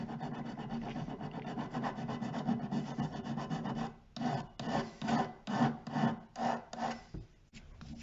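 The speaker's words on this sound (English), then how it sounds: "you take a fine file and you just remove any excess solder or anything like that" A fine file rasps over a thin metal bangle to remove excess solder, first as a steady continuous scraping, then as a series of distinct back-and-forth strokes, close and fairly loud with no talking.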